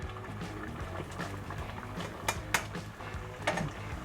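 Salted water boiling in a pasta pot, stirred with a utensil: a steady bubbling churn with a few sharp metallic clinks against the pot side, close and moderately loud.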